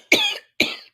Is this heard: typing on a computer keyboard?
no